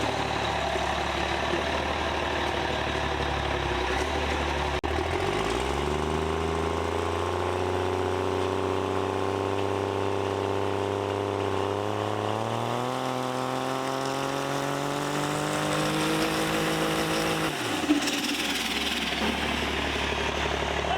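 A race truck engine sits at a steady, loud drone, then climbs with rising pitch to hold at about 3,300 RPM before dropping back, heard alone at close range.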